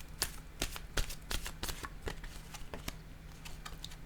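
Tarot cards being shuffled, a rapid run of crisp, close card slaps and riffles in an irregular rhythm, fairly quiet with no talking.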